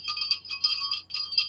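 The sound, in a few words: little bell earrings jingling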